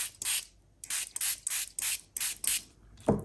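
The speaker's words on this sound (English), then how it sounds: "Let's spray them with water." Quick bursts from a spray bottle misting water onto pieces of watercolor paper, about eight short hissing squirts in an uneven rhythm, close and fairly loud, with a faint knock at the end.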